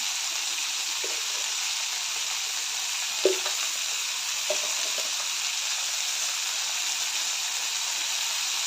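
Pavta batata bhaji cooks in a hot pan with a steady bright sizzle, and a few soft clinks and scrapes from stirring come through near the middle; there is no speech.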